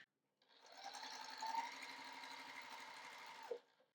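A sewing machine runs steadily, stitching the last square onto a small quilt star block. Its even motor whir starts abruptly, holds for about three seconds, then stops with a clunk, close and alone.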